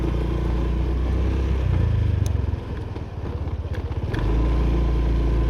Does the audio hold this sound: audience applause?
no